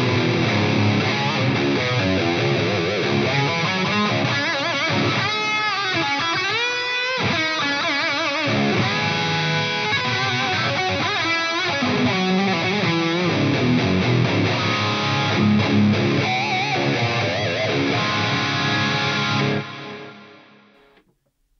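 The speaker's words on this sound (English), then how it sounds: "one of the most underrated PRS guitars, the US Mirror." A 2008 PRS US Mirror electric guitar played alone with an overdriven, effected tone: sustained chords and melodic runs that ring steadily before cutting off at the end.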